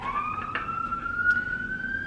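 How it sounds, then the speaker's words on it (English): Emergency vehicle siren passing outside a home, a steady rising wail heard through the walls, moderately loud and continuous with no talk over it. "I swear there are never this many sirens during the day when I'm not recording."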